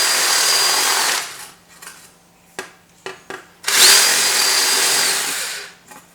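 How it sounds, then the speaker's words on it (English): A power drill boring out a hole in a valve tester, running in two long steady bursts with a few short knocks and taps in the quiet gap between them. "To drill it out a little bit."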